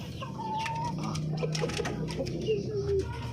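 Orpington chickens cluck and murmur while being fed fruit and vegetables, a steady close flock chatter with a few higher calls over a busy farmyard background.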